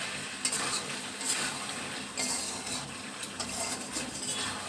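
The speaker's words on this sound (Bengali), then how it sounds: "এইভাবে পুরো ভেজে ভেজে পেঁয়াজ রসুন সমস্ত গন্ধ কিন্তু আমি সরিয়ে নেব" Chicken and potatoes fry with onion and garlic in a pan, giving a steady close sizzle with a spoon stirring and scraping against the metal now and then, and no voices.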